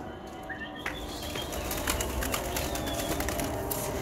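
Fantail pigeons flying outdoors, with wings flapping in steady bursts over a continuous noisy background and some faint cooing and bird calls.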